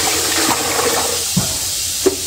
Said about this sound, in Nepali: अब यहाँ चाहिँ चिसो पानी हाल्नुपर्छ क्या